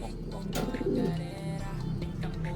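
Pigeons coo in a low, rolling call close by, rising once clearly above a steady background hum, with faint scattered chirps around it.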